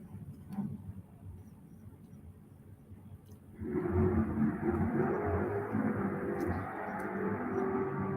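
Drag race cars launch off the line at a green light at a raceway, a sudden loud roar that swells after a quieter stretch of distant rumble and stays sustained, heard from some distance.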